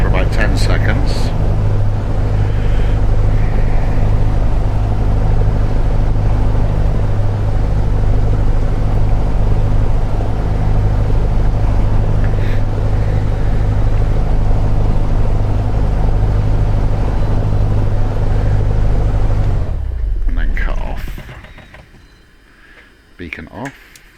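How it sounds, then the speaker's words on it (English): A Cessna 172 piston engine in Microsoft Flight Simulator 2020 runs up to 1500 rpm, a loud, steady droning hum held for about twenty seconds before cutting off and winding down to near silence. "I'll take the revs up to 1500 for about 10 seconds"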